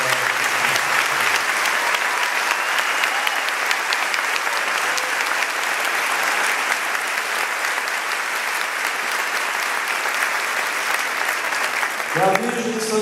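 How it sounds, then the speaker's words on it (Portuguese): An audience at a Catholic bishop's installation ceremony in São José dos Campos gives sustained, dense applause lasting about twelve seconds, steady and loud, before it ends and a voice begins speaking. "A ele uma salva de palmas."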